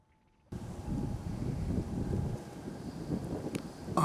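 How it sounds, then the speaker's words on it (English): Steady outdoor wind buffeting a microphone on a long-range deer hunt, a continuous low rumbling roar that starts abruptly and holds fairly loud throughout, with no voices. "Well, we got the wind right at us."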